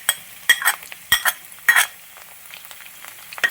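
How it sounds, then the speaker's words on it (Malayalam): Sliced ginger and chopped garlic fry in a pan for a Kerala vegetable stew, crackling while a metal spoon clatters and scrapes in several quick, close stirring bursts. "നന്നായിട്ടൊന്ന് ഇളക്കി കൊടുത്ത്."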